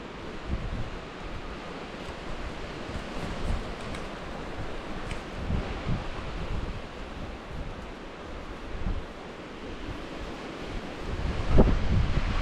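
Gusty wind blows outdoors in a forest, a broad steady roar with rumbling buffets against the microphone that swell and ease, louder toward the end, with no talking.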